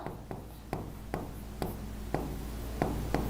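Pen or chalk writing on a surface in a classroom-style lesson, heard as a series of sharp, regularly spaced taps and short scratching strokes, close and fairly quiet, over a steady low hum with no talk.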